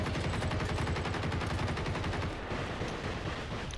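Sustained automatic gunfire in the video game Generation Zero, a fast steady stream of shots held at even loudness for several seconds before thinning out near the end.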